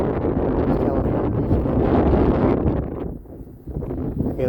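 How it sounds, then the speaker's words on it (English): Strong wind buffets the microphone on a beach by the Santa Monica Pier, a loud continuous low rumbling roar with gusty swells and a brief dip near the end. "Okay guys, we're at the beach. It's very, very windy."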